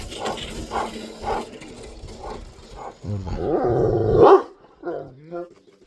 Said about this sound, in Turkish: Bu da bizim komşu köyün köpeği arkadaşlar